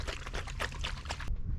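Filtered water sloshes inside a Salomon soft flask as it is shaken, a quick run of close liquid splashes and gurgles that stops abruptly at the end.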